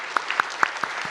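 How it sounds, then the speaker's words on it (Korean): A church congregation applauds after a closing prayer at a worship service, a short burst of scattered handclaps with a few sharp claps standing out over a thin, quick spatter. "하나님께 영광의 박수 올려드리겠습니다"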